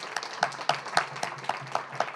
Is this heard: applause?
yes